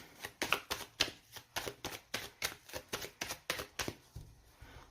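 Tarot cards are shuffled and laid out in a spread of eleven: a quick, even run of about a dozen crisp card snaps close to the listener, ending in near silence.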